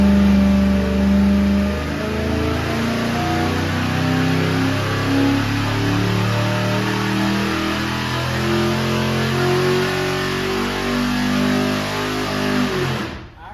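A car engine with a power valve fires up and revs hard, a loud continuous mid-range roar that surges and holds for over ten seconds before cutting off abruptly at the end, with no talk over it.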